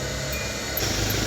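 A car engine idles steadily after its battery was replaced to cure hard starting, with a faint rise in intensity near the end and no voices.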